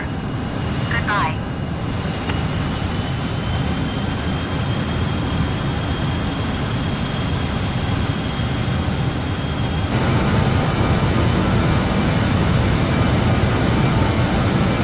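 Jet engines of a BAe146-300 airliner in Microsoft Flight Simulator drone as a steady, loud whine and roar, swelling noticeably as power is added partway through.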